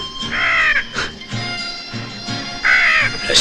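A crow caws harshly and loudly in a western film scene, giving two close rough calls about two seconds apart.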